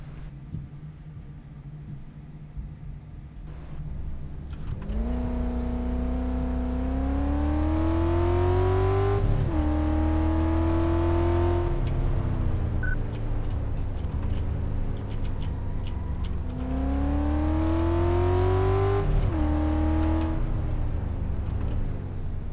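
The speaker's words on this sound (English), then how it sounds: "let's go ahead and take this bad boy for a test drive and see what the whining noise is." A car on a test drive in Car Mechanic Simulator 2014, the engine revving up and easing off in repeated waves with a rising whine, steady and close without talk.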